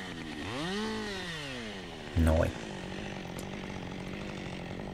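A chainsaw cuts firewood from a long stump and branches in a Finnish outdoor setting, a steady droning engine running throughout with a rising rev early, while someone speaks briefly over it.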